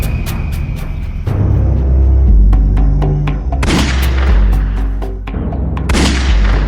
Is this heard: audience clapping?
no